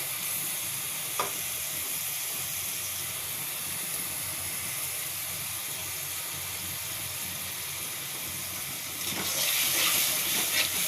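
Spices frying in a pan with a little water just added, ahead of cooking chicken feet, gizzards and liver, give a steady, close hiss and sizzle throughout, swelling louder near the end.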